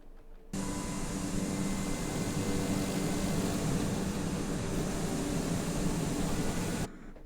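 Beechcraft T-6B/C Texan II turboprop taxiing for takeoff in Microsoft Flight Simulator, a steady broadband engine and propeller drone that starts abruptly, holds constant for several seconds and then cuts off.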